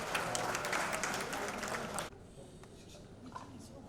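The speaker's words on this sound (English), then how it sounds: "Let's give her a round of applause." At a tourism press conference, an audience applauds a guest with dense, loud clapping for about two seconds. It cuts off abruptly, leaving quieter room murmur and faint voices.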